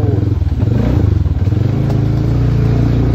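A Chinese 500cc quad bike engine running steadily while riding off-road on an enduro-style trail through branches and water, a loud close throbbing drone with clattering and scraping, no talk.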